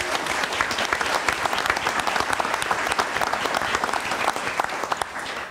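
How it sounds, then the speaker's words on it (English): An audience gives a round of applause honouring four local councils at a community event, a dense, steady wash of many hands clapping that runs unbroken throughout at moderate loudness. "please a round of applause"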